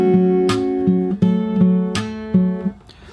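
Fingerstyle acoustic guitar playing the bridge of a song, a repeating bass-note pattern broken by sharp percussive body slaps, about four slaps spread through the phrase, close and clear with no voices.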